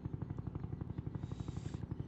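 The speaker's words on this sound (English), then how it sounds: "My helicopter." A video game helicopter's rotor thumps in a steady rapid pulse in Roblox Jailbreak, close and clear, with a faint higher whine above it.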